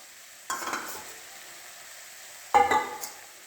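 Mutton keema with masala frying in a pan, two short bursts of stirring and sizzling with a spatula scraping, separated by a quiet low hiss, with no voices.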